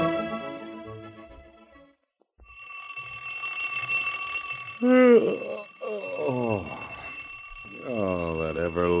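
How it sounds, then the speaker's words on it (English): A bright electric alarm clock bell rings steadily, then pauses and resumes, with voices and other sounds layered underneath, fairly loud and close. "that everlasting alarm clock"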